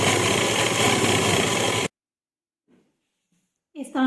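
A sewing machine stitches piping into a dupatta with a close, steady whirring hum that stops abruptly, leaving near silence before a voice begins to speak.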